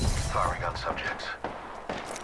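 Dense, rapid gunfire in Apex Legends rattles under overlapping voices, with sharp shots scattered across a busy, noisy mix of game sounds at moderate volume.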